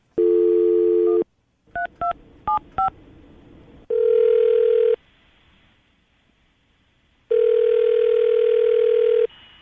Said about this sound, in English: we'll call her, see if we can get her on the phone